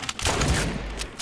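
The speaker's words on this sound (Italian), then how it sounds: "Oh, gli stanno facendo, un altro sparo." Gunfire in a Fortnite match: a dense burst of shots and rattling reports runs continuously through the moment, loud and close, with no talk over it.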